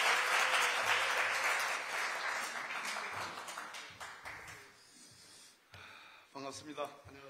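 Audience at a book launch event gives loud, dense applause welcoming a member of parliament to the podium, fading partway through while a voice and shouts rise over the thinning clapping near the end.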